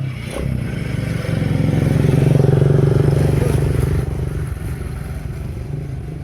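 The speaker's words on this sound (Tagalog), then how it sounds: "Daming motor." Several motorcycles pass close by in an open area ringed by small hills, their engines droning and swelling to a loud peak midway before easing off, with faint scraping and clatter mixed in.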